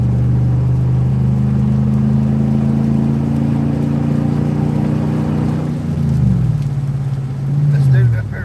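A pickup truck engine idles steadily with a low, even hum, then its pitch shifts briefly as it revs and settles, close by.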